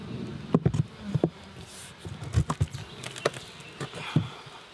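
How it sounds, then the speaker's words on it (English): A honey bee colony living inside a house wall, exposed as boards are cut away, gives a low buzzing hum under a series of sharp knocks and scraping clatters from the removal work. "There's our bees, right there."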